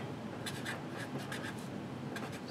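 Marker or pen writing on a board during a calculus lesson, soft scratchy strokes in short bursts over a steady background hiss, fairly faint and with no talking.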